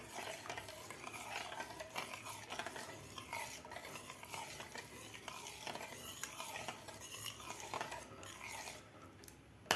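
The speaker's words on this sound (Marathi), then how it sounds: "ज्वारीच्या पिठाचा कच्चेपणा जाईपर्यंत आपल्याला हे एकसारखं ढवळत राहायचं आहे" A pot of jowar flour porridge (ambil) is stirred steadily for the whole stretch, a dense, continuous scraping and sloshing close by with no voices.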